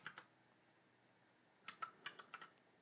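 Quiet, close typing on a computer keyboard: two quick clicks, a pause, then a short burst of several crisp keystrokes at an uneven rhythm.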